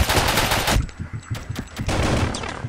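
Rapid automatic plasma rifle fire in the video game Boring Man, a dense loud burst up front followed by a string of sharper separate shots amid in-game action.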